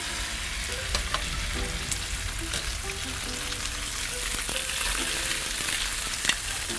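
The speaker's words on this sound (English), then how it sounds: "we're just gonna do a quick sear on these Wahoo" Wahoo fish fillets searing in a hot pan, a steady close sizzle with small pops and an occasional light utensil tap.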